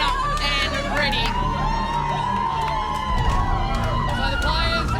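A capacity arena crowd at Rod Laver Arena in Melbourne roars and cheers as the West Coast Fever and Melbourne Vixens take the court for the Super Netball grand final, a dense continuous din with whistles and shouts rising throughout.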